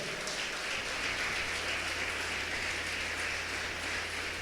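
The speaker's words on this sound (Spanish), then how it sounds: "dale un fuerte aplauso al Señor en esta hora" A church congregation gives loud, sustained applause during a worship service, a dense continuous wash of clapping heard at a distance with a low steady hum beneath.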